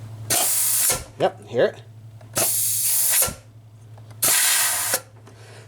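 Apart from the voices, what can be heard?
air pressure pushed into truck turbo wastegate, hissing and clicking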